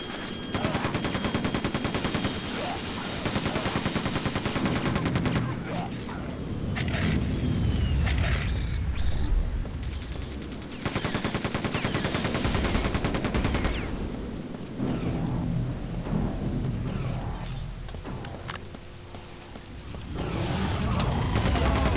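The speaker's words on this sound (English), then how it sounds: "Oh yeah, someone is firing." Gunfire in the video game Quake 2 The Reckoning: long bursts of rapid automatic shots broken by short gaps and mechanical clanks, loud and continuous across the game's sound.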